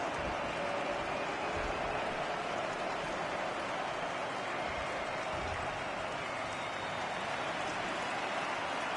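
Steady rain falls in a baseball video game, MLB The Show 18, during a Red Sox at Yankees matchup, a continuous even hiss that holds without a break under the broadcast.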